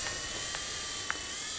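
A toy helicopter's servo motor whines with a steady high-pitched buzz, close and fairly faint, broken by a few brief clicks.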